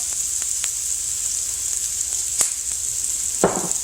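Food sizzles steadily in a pan with sesame oil, a bright continuous frying hiss with a few sharper crackles and one louder burst of spatter near the end.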